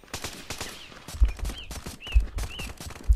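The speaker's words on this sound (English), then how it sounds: "Who's shooting?" Gunfire in the VR shooter game Contractors, a few sharp shots with low booming thumps spread across the clip, mixed with other game sounds and brief whistling tones.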